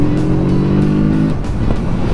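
Kawasaki Z650 RS motorcycle engine revving under throttle while riding, a loud, throaty, bassy drone that climbs in pitch, then breaks into a rougher rumble as the throttle opens further.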